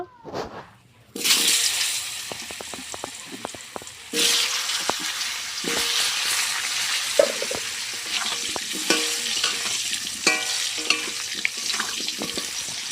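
Potatoes fry in hot oil in a steady loud sizzle after a sudden start, with repeated scraping and tapping of a spatula against the pan. A brief quiet gap comes before the frying resumes, and no talk is heard.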